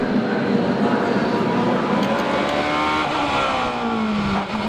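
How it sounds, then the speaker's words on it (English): Supercar Challenge racing cars at the Assen circuit, engines roaring loudly as they pass with rising and falling pitch, under continuous race commentary. "as Short drifts a little wide in Menthaven, through goes Tace into a lead he'll keep to the pit stops"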